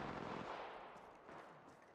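Rapid automatic gunfire in the Apex Legends Mobile video game, a dense, continuous rattle of shots that stays fairly steady and faint over the short stretch, with no talk heard.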